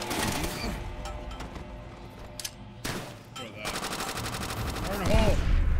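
Video game World at War gunfire aimed at barrels: loud, close bursts of rapid automatic fire come in clusters with short pauses between, ending in a heavier boom, over a busy in-game background.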